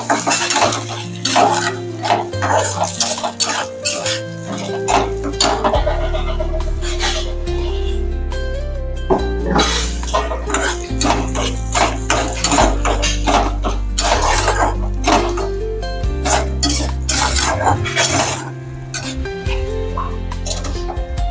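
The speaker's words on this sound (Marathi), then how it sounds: "हे पहा, आता याला अजून आपण चांगलं हलवून घेऊ।" Wheat lapshi stirred in ghee in a pot, loud close metallic scraping and clinking of a spoon against the pot in a busy, irregular rhythm throughout.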